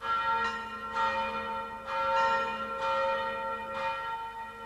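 Santa Cruz church bell tolling, a series of resonant strikes about one second apart with long overlapping hum, moderately distant and alone without talk.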